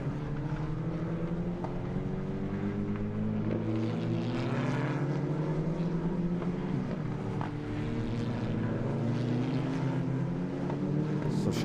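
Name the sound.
race car passing with damaged front bodywork flapping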